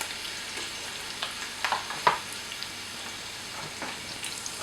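Sliced onions frying in hot oil for chicken pulao, a steady soft sizzle with occasional crackles and the scrape of stirring, close up and without talking.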